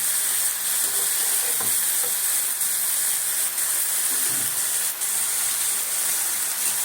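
Mushrooms frying and being stirred in a pan, a steady close sizzle and hiss with light scraping stirs throughout, no talking.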